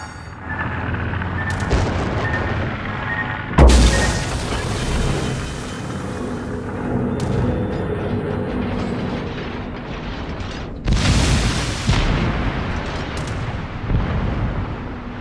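Warship guns firing in a naval video game: two loud, sharp blasts several seconds apart, each followed by a rumbling roar, over continuous low mechanical and ambient noise.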